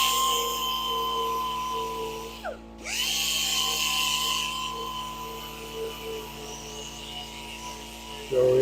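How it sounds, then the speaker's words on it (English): A piece of wood is sanded while it spins on a woodturning lathe: a steady motor hum with a faint whine, and one brief sweeping dip partway through. "Sanding."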